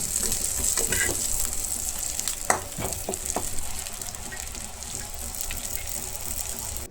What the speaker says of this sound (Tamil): கத்திரிக்காவும் நல்லா எண்ணெயிலே வதக்கியாச்சு. இன்னும் ஒரு 5 நிமிஷம் வதக்கிட்டு